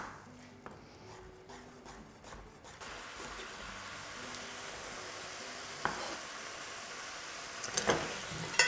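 Pork fillet sears in a pot with a steady sizzle under scraping and stirring, wooden utensil rasps and occasional clinks over continuous frying hiss.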